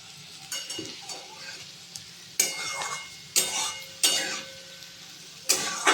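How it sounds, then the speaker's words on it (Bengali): Spoon stirring chana dal and potatoes frying in a pan, with soft sizzling and a few distinct scraping clatters against the pan at irregular intervals, close and moderately quiet. "ঢাকা খুলে কিছুক্ষণ পর পর নাড়াচাড়া করে নিচ্ছি"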